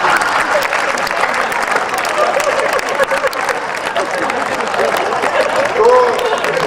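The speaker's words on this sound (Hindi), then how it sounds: "भरपूर तालियां बजाएं विनीत चौहान के लिए।" Sustained audience applause at a kavi sammelan poetry gathering in Udaipur, dense continuous clapping from a large crowd that carries on through the whole stretch.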